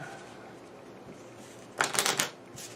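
Brief riffle-shuffle of a small, nearly depleted deck of Onirim game cards, a quick close flurry of crisp card flicks lasting under a second after quiet room tone.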